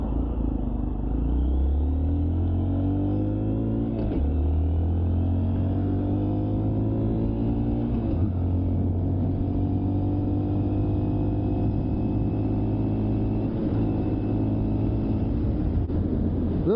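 A 2023 Honda Monkey motorcycle engine runs steadily through a test ride, a loud, close low drone with rising and falling pitch as the rider shifts gears, with no talking.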